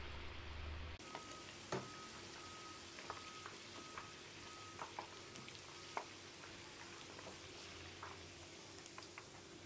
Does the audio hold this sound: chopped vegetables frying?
yes